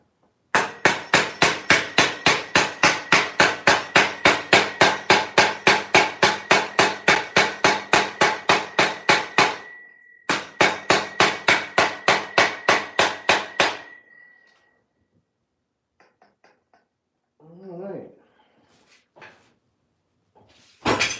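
Hammer striking motorcycle clutch parts in a rapid, steady series of loud metallic blows, a brief pause, then another fast run, followed by quiet handling sounds and a short voice.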